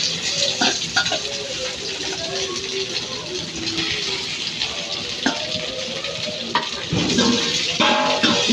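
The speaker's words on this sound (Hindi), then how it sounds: "मम्मा अभी ज़ीरा डाला है, तेल गर्म होने रखा हुआ था फ्राई पैन में भी और यहाँ कढ़ाई में भी" Cumin seeds frying in hot oil in a frying pan and a kadhai, a loud steady sizzle close up with occasional clinks of a spoon stirring against the pan.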